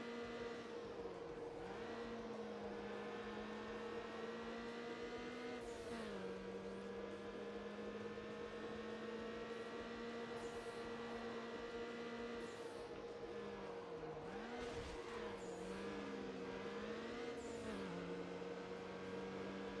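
Steady engine drone of a street-racing car in Need for Speed Underground, pitch rising and dipping with gear changes and revs, continuous and close with a constant high whine, no voices.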